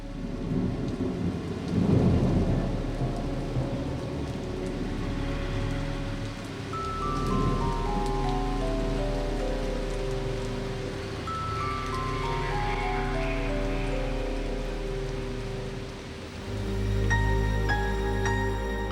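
A spring thunderstorm with rain: deep, rolling thunder swells and fades over a steady patter of rainfall, with soft tonal music running underneath.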